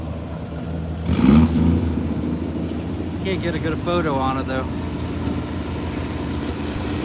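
Pulling tractor with a loud, rough engine roar at a county fairgrounds tractor pull, a brief loud burst near the start, then steady engine noise in the background while people talk nearby.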